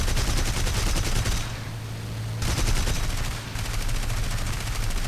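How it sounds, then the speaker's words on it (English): Aircraft machine guns fire in dense, rapid bursts in a WWII flight combat game, loud and close, with two brief pauses between long volleys over a steady engine drone. "I'm still packing machine guns once my cannons are out of ammo"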